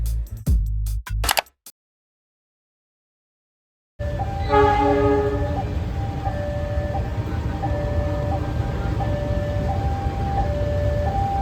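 Supas commuter train on the Probolinggo to Surabaya line: a few loud close thumps, a brief silence, then a long steady rumble of the moving train with repeated sustained horn blasts sounding over it.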